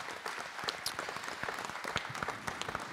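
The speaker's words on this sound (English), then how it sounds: "And so everybody give a round of applause." A church congregation applauds during a service, a dense, even patter of many hands clapping that continues steadily through the moment, moderately distant in the room.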